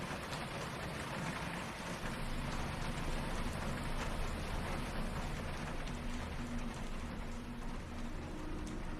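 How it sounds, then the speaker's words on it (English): Rain falls steadily on a city sidewalk at night, a dense, even patter of raindrops spattering the pavement over a low background hum, constant throughout without any voices. "the only sound is raindrops ricocheting off the sidewalk"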